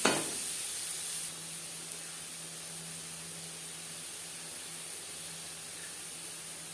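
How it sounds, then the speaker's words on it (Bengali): Well-drained prawns hit a hot pan for a jackfruit and prawn curry, giving a brief sharp burst of sizzling that settles into a steady, fairly quiet hiss of frying, with no talking. "আর দিয়ে দিলাম চিংড়ি মাছ।"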